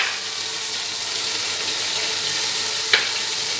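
Mutton pulao masala with salt and garam masala frying in a pot, a steady close hiss of sizzling oil throughout, with one brief metallic scrape of a spoon near the end and no talk.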